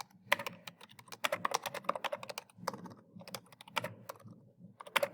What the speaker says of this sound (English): I'm going to just type Dr.